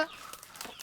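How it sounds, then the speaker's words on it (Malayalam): A chicken clucks on a small farm, a brief, faint, throaty call heard at a distance in under a second. "കോഴിയെ കാണാം."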